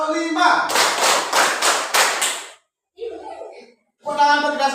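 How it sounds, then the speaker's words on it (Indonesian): A group claps in five quick, loud, even beats, followed by a brief pause and then a voice speaking. "Tepuk tangan untuk kita semua"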